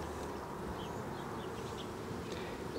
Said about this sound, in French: Là, il y a peu d'abeilles parce qu'on est à l'automne.